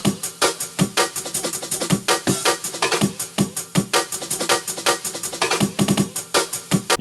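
A homemade breakcore drum break built from a chopped and rearranged breakbeat, rapid dense snare and kick hits in a fast, stuttering, busy rhythm, loud and continuous with no voices.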